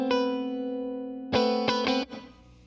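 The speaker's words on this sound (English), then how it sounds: "So this is my Strat going through my Mesa Boogie Electrodyne on the clean channel." Fender Stratocaster on a clean channel through a Mesa Boogie Electrodyne amp: a sustained chord rings out after a few picked strums, then a second burst of quick rhythmic strums, loud and close, ending in a choked decay.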